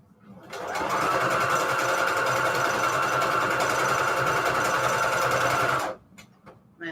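A sewing machine in need of oiling runs steadily for several seconds, a fast buzzing whir of stitching that starts and stops abruptly.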